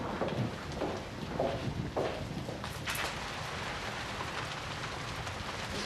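Rain falls in a steady broadband hiss, with a few distinct drips or patters standing out early before it settles into an even, continuous wash.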